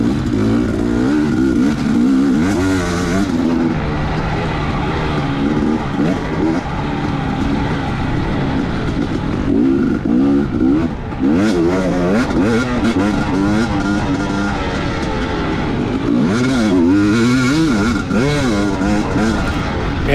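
A dirt bike racing a lap on a sandy motocross track, its engine loud and close, revving up and down continuously through shifts and throttle changes with a voice talking over it.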